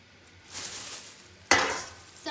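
Hot tempering poured over nylon khaman, the fluffy steamed gram-flour snack: a quiet kitchen background breaks into a sudden loud, hissing sizzle that fades, with a brief clink near the end.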